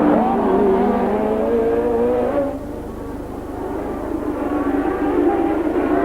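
Formula 1 race cars at the 1983 Detroit Grand Prix roar past close by, loud engine whine sweeping in pitch, dipping briefly as one car passes before the next surges in.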